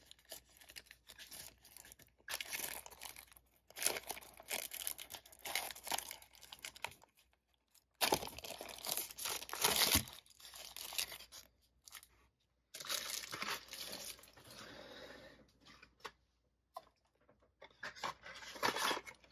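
A knife cuts open the packaging of a first-edition Yu-Gi-Oh starter deck, sending out intermittent bursts of close crinkling and crunching plastic separated by short pauses.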